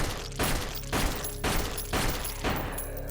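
Gunshots in the game Flesh Made Fear: six evenly spaced, heavy blasts about half a second apart, each with a short ringing tail, loud and close with no talk.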